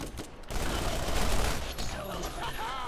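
Gunfire from a gun being fired at an enemy in the video game Borderlands, a rapid burst of loud shots with mechanical clatter, easing off toward the end.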